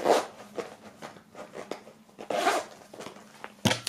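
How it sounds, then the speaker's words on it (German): A bag's zipper being worked close by, a series of short rasping pulls of varying length, ending with a sharper louder zip, with no talking. "Auch wenn ich gar einen Reißverschluss nicht mehr zubekomme."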